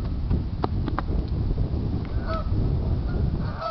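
Geese honking at a lake, several short, sharp calls rising over steady wind and outdoor rumble, fairly close, with bursts scattered through the stretch.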